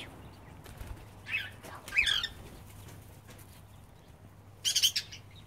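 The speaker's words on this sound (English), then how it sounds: "And let me find the quail. They're in here somewhere." Pet quail shuffle and flap in their enclosure, giving a few short bursts of wing flutter over a low steady background hum, with the loudest flurry near the end.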